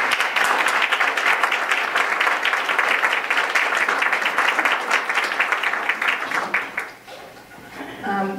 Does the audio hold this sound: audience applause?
yes